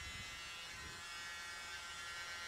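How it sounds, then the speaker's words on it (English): A small electric mini blower hums with a steady, even whir, pushing air across wet acrylic paint on an art piece. It runs alone at a constant, fairly quiet level. "let's get the mini blower in to blow out some more of this colour"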